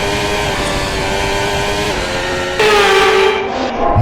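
Racing car engine in the Assetto Corsa video game during an Australian Grand Prix race, a loud continuous high-pitched whine that rises in pitch as the car accelerates, with a sharper surge near the end.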